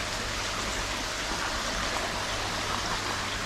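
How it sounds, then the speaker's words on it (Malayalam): Water falls steadily through a cloth-lined filter box at an ornamental koi fish farm, a constant close splashing rush that never lets up. "തുണിയിൽ നിന്ന് വന്ന് വെള്ളം വീണ് ഫിൽട്ടറായി പോവുകയാണ് ഇതിൽ."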